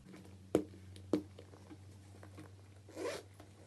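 A handbag zipper is opened, heard as two faint, sharp clicks followed a moment later by a short, soft rasping zip in a quiet room.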